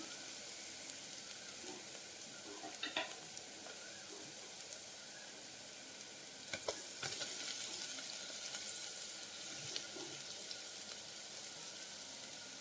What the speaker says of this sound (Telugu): ఇప్పుడు దీనిలోకి మనం ముందుగా కట్ చేసి పెట్టుకున్న బంగాళదుంపల్ని యాడ్ చేద్దాం.